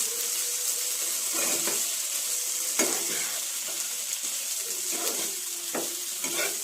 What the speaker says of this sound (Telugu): కొంచెం దుంప కూడా ఫ్రై అయితే చాలా బాగుంటుందండి ఈ ఆయిల్లో